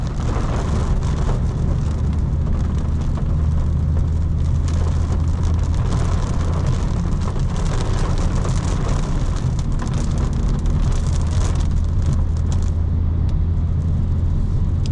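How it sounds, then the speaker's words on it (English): Heavy rain hisses steadily over a 2025 BMW M4 Competition xDrive as it drives through standing water, with a constant loud wash of road and tyre noise and a low engine rumble beneath. "this has been a crazy past few weeks where it's always raining like this."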